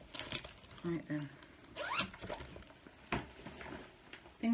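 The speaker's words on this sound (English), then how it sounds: "I don't zip up project bags apparently." A zipper on a fabric project bag rasps in short bursts, one quick pull standing out among soft rustles, handling noises and low murmured talk.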